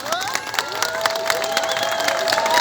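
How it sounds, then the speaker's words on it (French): Audience in a Paris 19th-arrondissement tribute event cheering and clapping, a dense crowd roar with whistles and shouts, steady and loud throughout. "On peut l'applaudir encore plus fort."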